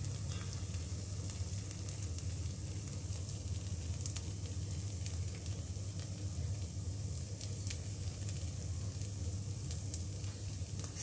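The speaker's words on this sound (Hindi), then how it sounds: "स्लो और मीडियम फ्लेम पे ही हम इसको ढक के कुछ सेकंड्स के लिए पका देते हैं" A button pizza cooks in a covered pan over a slow-to-medium flame, giving a steady, even sizzle and crackle throughout with no talking.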